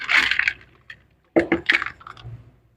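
Pap grains being rewashed in a large amount of water, with wet squishing, sloshing bursts as the grains are stirred and rubbed by hand, then brief pauses between handfuls.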